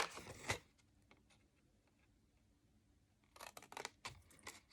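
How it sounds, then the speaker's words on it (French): Scissors cutting through card for a stencilled box, heard as a sharp snip at the start and then a cluster of crisp, rapid cutting and rustling sounds near the end, close and fairly quiet, with no talking. "il vous faut un ciseau qui va bien pouvoir couper donc jusqu'au bout"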